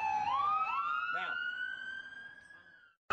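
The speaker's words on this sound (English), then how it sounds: "siren" A police siren wails in a long rising tone, moderately loud and steady, fading away before a brief final sound; the setting is the Hamptons, with a faint background murmur.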